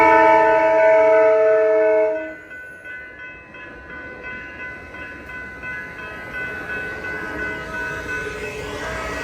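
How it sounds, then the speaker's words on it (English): Double-decker train sounding a loud sustained horn blast, then rolling past with rhythmic clacking wheels and rumble that stay close and steady. "I've never seen a double-decker train before."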